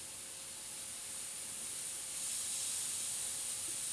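An airbrush or spray tip hissing while laying very fine lines on paper, a steady, quiet high-pitched hiss that grows slightly louder midway and continues evenly without pauses.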